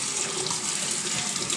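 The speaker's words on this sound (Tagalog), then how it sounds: "Paliguan natin itong ating halaman." Water pours steadily from a container onto a potted plant at close range, a continuous hissing splash with no talk over it.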